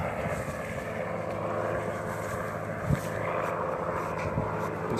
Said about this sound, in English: it's accompanied by the helicopter right now as well